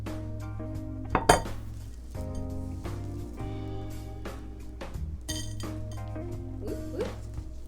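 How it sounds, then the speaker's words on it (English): A bowl is handled and flipped over on a table while making a centerpiece, giving close clinks and a couple of sharp knocks against the surface, mixed with a steady background hum. "Now I'm gonna flip this bowl over."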